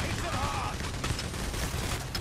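Dense gunfire fills a shootout in the video game Payday: The Heist, a rapid crackle of shots under a player's excited talk.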